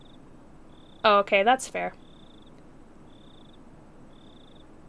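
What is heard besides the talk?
crickets chirping at night in Higurashi video game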